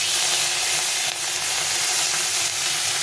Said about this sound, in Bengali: আমি মাছটাকে প্রথমে ভেজে নেব।